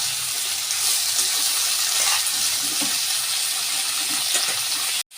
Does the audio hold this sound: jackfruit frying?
yes